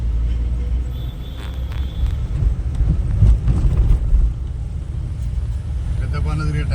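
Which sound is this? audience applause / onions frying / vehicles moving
vehicles moving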